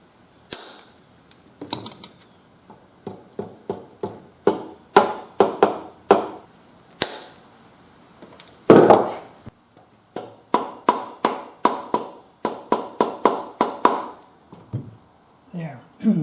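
Cutters snip a cotter pin and its leg gets bent and tapped flat against a castellated nut on a Honda CT70 Mini Trail, a long series of sharp close metallic clicks and taps in irregular bursts.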